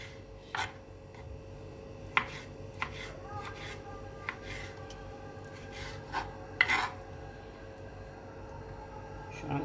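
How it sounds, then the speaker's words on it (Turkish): Rapid knife strokes on a cutting board, julienning Brussels sprouts and carrots: thin repeated chops and rasping cuts, close by, with a few sharper knocks standing out. "Yani yapabildiğiniz kadar ince julienne doğrayın."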